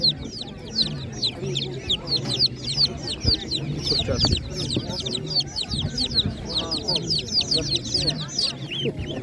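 Italian Leghorn chickens at an animal market, with many clucks and chirpy calls overlapping steadily and fairly close, while other fowl and people talking mingle in the background.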